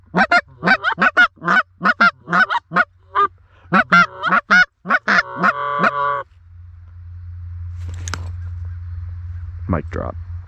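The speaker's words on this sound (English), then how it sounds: "yep, two geese." Canada geese honk in flight during a September goose hunt, a rapid series of loud, nasal honks close by, then quieter after a pause, with a low steady hum underneath and a couple of faint later calls.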